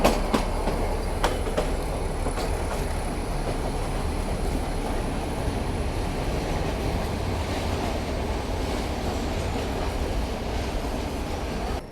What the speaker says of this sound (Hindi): यहाँ पे अराइवल हो रहा है अपनी ट्रेन जर्नी का पहला हॉल्ट, वेलिंगटन रेलवे स्टेशन